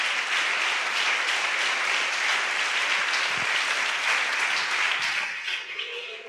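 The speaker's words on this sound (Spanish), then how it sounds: "¿Cuántos aplauden al Señor esta noche?" A church congregation applauds steadily throughout, a dense, loud wash of clapping from many hands that thins slightly near the end.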